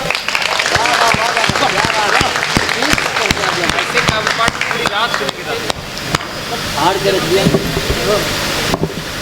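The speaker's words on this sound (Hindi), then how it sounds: "मांगनी चाहिए तालियां। एक बार बजा दो।" Audience clapping at a Hindi poetry recital, a dense burst of sharp hand claps that starts loud and then thins and softens, with scattered crowd noise underneath.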